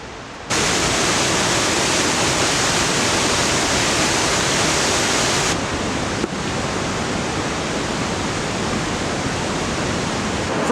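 Fryingpan Creek in Mount Rainier National Park rushes beside the trail, making a steady, loud, broadband roar of flowing water that continues without a break and with no voices.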